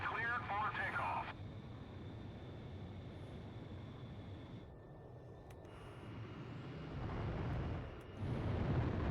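A jet aircraft in Ace Combat Zero roars steadily on the runway as it takes off, with the engine noise swelling louder toward the end, and a brief radio-style voice near the start.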